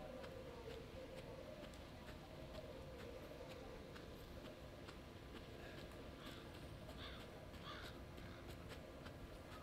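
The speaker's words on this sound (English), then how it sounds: "Loud ass bird." A crow cawing in the video game Resident Evil 7, several faint caws over a dense, steady ambient rumble of the game's soundscape.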